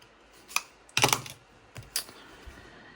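Pen strokes scratch across the paper of an Erin Condren Daily Duo planner, arriving in a few short, quiet bursts with pauses between them and no talking.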